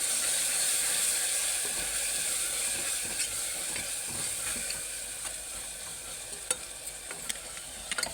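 Ginger garlic paste frying in a pan for Telangana-style mutton curry, a steady close hiss and sizzle with scraping stirs and occasional small pops, no talking.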